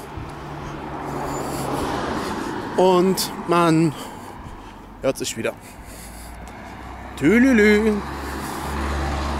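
Road traffic rumbles steadily past a bus stop, with engines swelling and fading nearby while someone talks and briefly hums over the noise.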